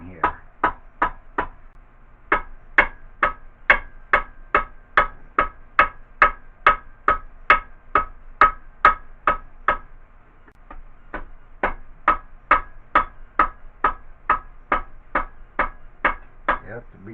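Metal hammer tapping on a part of an OMC GM engine during a rebuild, in a steady rhythm, about two strikes per second, with sharp ringing hits and one brief pause partway through.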